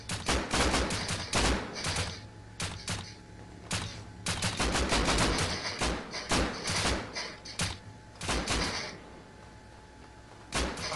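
Bursts of gunfire in the survival video game Rust, rapid cracks and volleys in several clusters with thuds between them, loud and close throughout.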